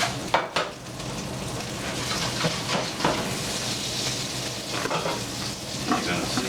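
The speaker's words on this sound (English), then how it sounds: "Some of that sizzle" Pasta cooking water sizzles steadily in a hot pan on the stove, a continuous frying hiss broken by a few light clinks of utensils and stirring.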